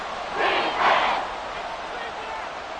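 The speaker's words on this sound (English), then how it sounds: "this crowd doing their best to make a lot of racket" A stadium crowd in the Madden 24 football video game roars in a broad, distant swell that peaks briefly then settles into a steady murmur.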